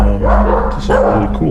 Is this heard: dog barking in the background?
yes